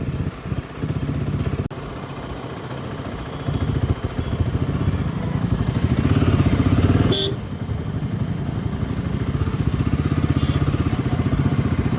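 Motorcycle and vehicle traffic rumble along a national highway, a steady close engine drone with a brief sharp clatter midway.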